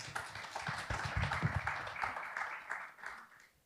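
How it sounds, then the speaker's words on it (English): Audience applause at a blockchain crypto conference, a short burst of clapping from a seated crowd that tapers off after a few seconds. "Give them a round of applause, please."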